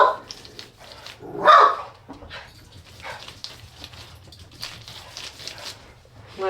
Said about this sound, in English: My guard dog is acting.